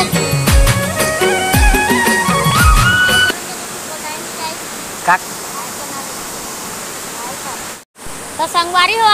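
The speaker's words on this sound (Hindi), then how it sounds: "आपला झरना कैसे लगी" A forest waterfall pours with a steady, dense rushing roar that continues unbroken for most of the stretch, following a few seconds of music at the start.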